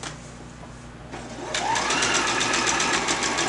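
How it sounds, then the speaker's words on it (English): A sewing machine straight-stitching tulle fabric for a drawstring skirt, starting up after a quiet moment and then running in a steady, close, fast mechanical whir to the end. "I'm running the tulle through the sewing machine"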